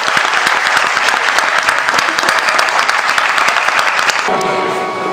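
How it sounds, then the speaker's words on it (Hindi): Wedding guests at a Buddhist-rite marriage ceremony applauding loudly, a thick, continuous burst of clapping that carries on for several seconds before abruptly dropping away. "आइए जोरदार तालियों से इनका स्वागत करें"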